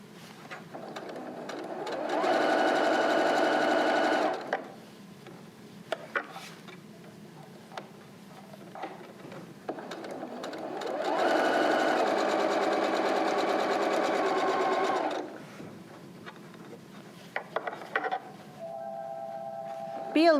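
A sewing machine stitches a face-mask seam with back stitching at each end, running in two sustained loud bursts of whirring needle chatter separated by quieter pauses with small clicks and handling sounds.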